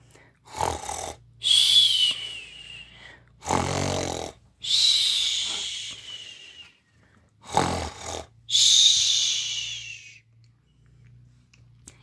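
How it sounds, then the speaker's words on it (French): A giant's heavy snoring in a French telling of Jack and the Beanstalk: three loud, drawn-out snores in a slow rhythm, each with a rasping breath, separated by short quiet gaps and heard alone. "le géant s'assoupit, et ses ronflements ébranlèrent les murs du château."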